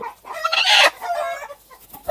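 Chickens clucking and calling loudly up close while being dusted with a powder treatment in a fresh coop, with one strong squawking burst in the middle and steady clucks around it.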